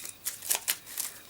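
A deck of cards being shuffled by hand during a print-and-play dungeon board game, heard as a few quick, close riffling bursts in a short run.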